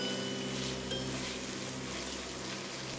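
Diced onion sautéing in a pan until soft and translucent, producing a steady, close, dense sizzle and crackle that holds level throughout with no talking.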